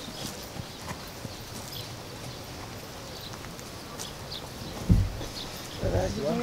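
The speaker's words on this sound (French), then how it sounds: "Vas-y, tu pars au trot. Tu redescends là-bas au trot" Hooves clip-clop as a horse trots during a riding session, the footfalls soft and moderately distant over steady outdoor background, with a louder thud near the end and an instructor's voice faintly present.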